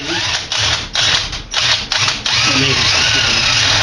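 A power drill whines loudly nearby in several bursts, revving and easing off as it bores into wood while making a flute, then running steadily to the end.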